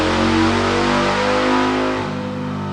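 A car engine strapped to a dyno makes a full-throttle pull, roaring loud and close with a strong harmonic tone that holds, then drops off as the run winds down near the end.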